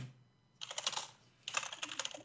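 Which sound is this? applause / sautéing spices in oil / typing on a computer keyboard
typing on a computer keyboard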